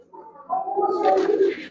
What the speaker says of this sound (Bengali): এটা মাদি কবুতরটা দেখেন